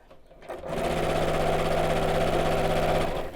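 A sewing machine runs a steady, unbroken stitch along the seam of a tote bag made from cork and fabric. The close motor hum starts after a brief pause and stays even until it stops near the end.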